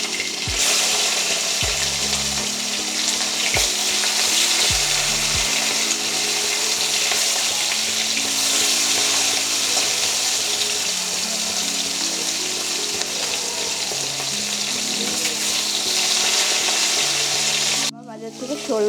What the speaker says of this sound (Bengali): মাছগুলো উল্টে পাল্টে ভালো করে ভেজে নেব